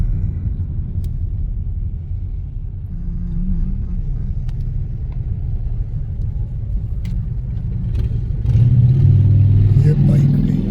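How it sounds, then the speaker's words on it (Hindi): A motorbike goes by on a street in summer, a low rumbling engine that grows louder and closer toward the end over steady traffic noise. "ये बाइक गई"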